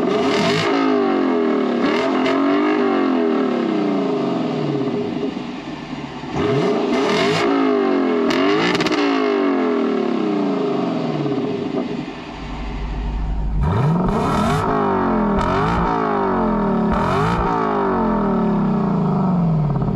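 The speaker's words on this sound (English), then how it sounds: "We'll go ahead and fire it up so you can hear what the engine sounds like." A 2022 Lexus LC 500 Convertible engine starts and revs close up, rising and falling in repeated loud sweeps with a steady idle between blips and a brief dip before it fires again.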